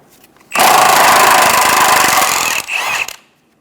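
A power tool, likely an impact wrench with a 14mm socket, runs in one loud, steady burst of about two seconds on the transmission mount bolts of a 2003-2007 Honda Accord 3.0L V6, followed by a brief second burst.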